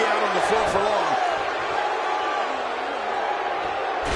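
A capacity wrestling arena crowd keeps up a steady roar of cheers and shouts, with commentary voices talking over the noise throughout.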